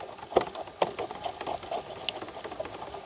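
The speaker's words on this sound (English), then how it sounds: "Now you're just going to whisk this thing up." A fork whisks an egg mixture for southern-style fried fish, giving light rapid clicking and tapping against a bowl, steady and close, with a few sharper clinks.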